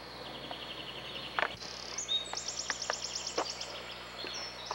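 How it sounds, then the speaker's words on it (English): A bird calls outdoors with a run of quick, high chirps and trills, faint and somewhat distant over a quiet background with scattered insect-like ticks. "You heard a bird."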